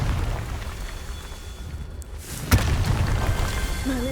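Confringo spell blast in the game Hogwarts Legacy, a single sharp booming burst midway through that breaks over steady game ambience and rumble, then settles into a noisy tail.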